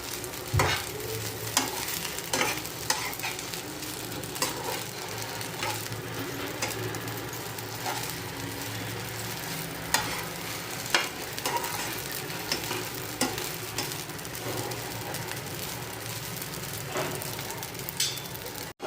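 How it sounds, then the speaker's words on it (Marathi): Masala idli fries in a pan, giving a steady close sizzle with occasional scraping taps as the pieces are stirred, continuous and moderately loud, with no talking. "आणि इथे इडली फ्राय होती"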